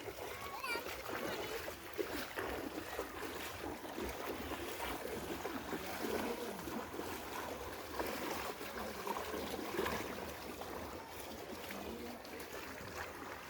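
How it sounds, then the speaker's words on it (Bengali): Floodwater flowing through a house in Habiganj, Sylhet: a steady, moderately loud rush and splash of moving water, with voices, including a child's, talking over it throughout. "বাড়ির ভিতর দিয়ে পানি যেতেছে"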